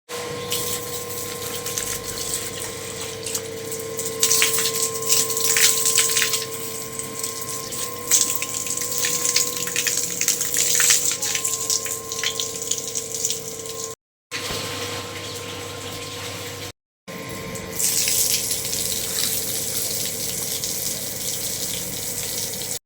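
Water pours and splashes onto a doorstep at home, a steady gushing stream at close range with two brief cut-outs partway through, no voices.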